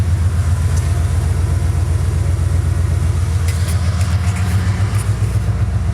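A Ford F-150 pickup idles with a deep, steady exhaust burble, pulsing evenly and close by, with no one speaking.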